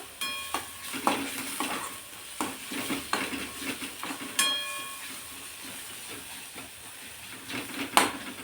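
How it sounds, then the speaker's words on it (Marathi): Onion frying with crushed garlic and ginger gives a soft, low sizzle. Irregular clicks and scrapes of stirring punctuate it, fairly faint and close by. No one speaks. "यामध्ये आपण ठेचलेला लसूण आणि अद्रक टाकून घेणार आहोत आणि ते सुद्धा यामध्ये परतून घ्यायचं"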